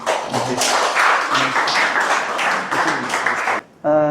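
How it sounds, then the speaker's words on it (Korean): A church congregation applauds to welcome the pastor with steady, dense clapping from many hands filling the room, then breaks off abruptly near the end. "박수로 환영해 주시면 감사하겠습니다"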